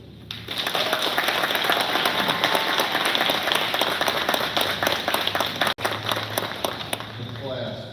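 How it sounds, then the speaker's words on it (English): A large crowd applauds families and friends at a basic law enforcement academy graduation, with dense, sustained clapping and cheering that runs for nearly the whole stretch, briefly cut by a dropout near the end. "give your family and friends a round of applause for their support"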